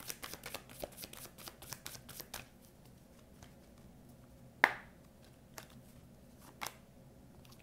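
Angel love oracle cards shuffled by hand in quick riffling flicks, followed by a sharp single snap and a few scattered taps as a card is drawn, close and fairly quiet, with no talking.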